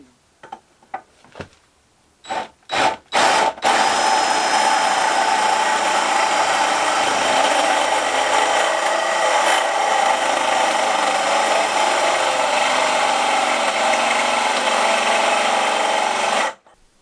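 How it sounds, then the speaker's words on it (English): A few sharp clicks, then a loud power drill whirs steadily for over ten seconds, its pitch dropping slightly as it slows, before cutting off, while working on a Honda VFR 800 V-tec exhaust. "as you could probably hear, the drill was slowing down"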